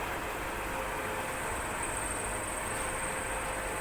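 Continuous steady whir and hiss of an electric motor running under applied load on a machine lab test bench, an even broadband drone with a faint high whine and no speech.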